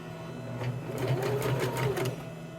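A sewing machine zigzag-stitches rope onto a cork coaster, a close, continuous rapid whirring hum that runs evenly throughout.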